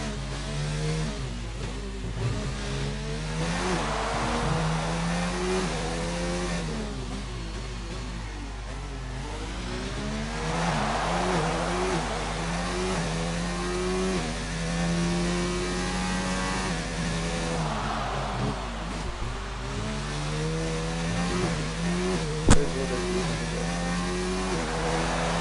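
A Formula 1 race car engine from the F1 2019 video game laps the Singapore Grand Prix circuit, a loud, close, high whine that repeatedly climbs and drops through gear changes, with a brief sharp click near the end and no talk.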